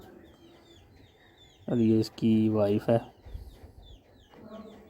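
A rooster and a hen kept at a zoo cluck softly in the background while someone speaks over them close by.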